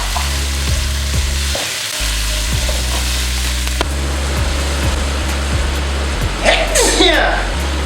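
Chili frying in a hot pan for a basil chicken stir-fry gives a loud, steady sizzle, close up, with light stirring clatter and scraping throughout.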